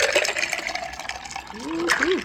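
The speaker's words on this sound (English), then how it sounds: "Pour in the coffee." Coffee poured from a pot into a ceramic mermaid-shaped mug, a close, steady liquid trickle and splash lasting a couple of seconds with a rising gurgle near the end as the mug fills, under light background talk.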